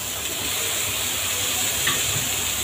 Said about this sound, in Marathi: आपल्याला हे घोसाळे पण त्यामध्ये घालून घ्यायचे